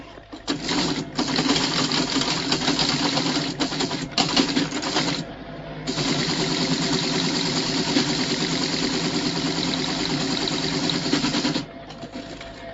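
An old computer machine whirring and clattering with rapid mechanical chatter, running in long loud bursts broken by brief pauses, with no voices over it.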